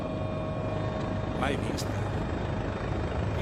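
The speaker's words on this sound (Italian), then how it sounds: "Questo è un elicottero della forestale, anzi carabinieri forestali, che sta facendo l'ispezione subito dopo Vaia" Forestry carabinieri helicopter flying over storm-damaged woods in the Marcesina basin, a steady loud rotor and engine rumble filling the whole clip, with brief chirps above it and a voice speaking over it.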